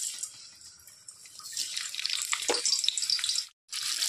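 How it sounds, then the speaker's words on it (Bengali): Potatoes fry in hot oil with a loud, continuous hiss and crackle that carries on for several seconds, with a brief gap near the end. "গরম হয়ে গেছে, তো প্রথমে আমি আলুগুলোকে একটু ভেজে নেব।"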